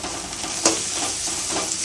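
Chilli powder sautéing in hot oil makes a brief, steady sizzle, with a soft stirring scrape partway through and no voices.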